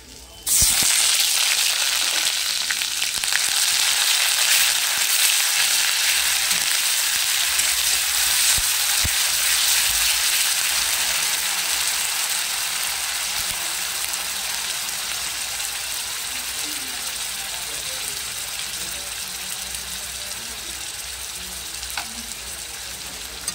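Onion paste fries in a pan with whole cumin and spices, giving a loud, steady broadband sizzle that sets in right away and eases off slightly over time. No one speaks.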